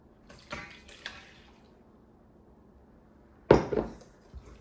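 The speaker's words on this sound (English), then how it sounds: "water and butter are getting added to this now" Light clinks in a quiet kitchen, then a brief splash of water and butter poured into a bowl for cinnamon roll dough, followed by a soft settling trickle.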